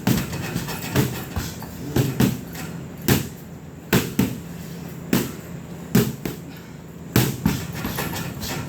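Punches land on pads at an MMA club in Burgaw, making sharp, loud thuds in a steady rhythm of roughly one or two hits per second, each one alone with no talking.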